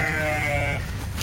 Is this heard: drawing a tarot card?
no